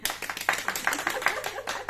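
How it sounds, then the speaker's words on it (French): A few people clap together at a Thermomix cooking demonstration indoors. The sparse, quick handclaps are moderately soft and close, with no talk over them. "Bon, faut applaudir."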